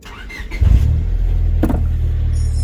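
A 1998 Honda hatchback engine cranks after a push-start button press, catching at once and settling into a loud, steady idle close by.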